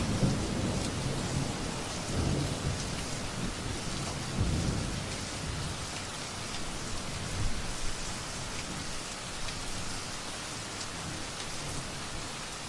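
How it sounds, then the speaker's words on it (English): Steady rain falls in a constant wash of noise, with low rumbles of thunder swelling now and then in the background; no voices. "Rain after rain."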